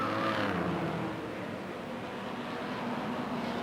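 A Jaguar E-Type race car at a street race drives past, its engine a broad steady roar that holds loud throughout, slightly fuller at the start before easing as it goes by.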